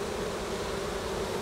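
Honeybees hum in a continuous, even buzz of many wings as nurse bees are introduced into a colony, close and steady with no other sounds.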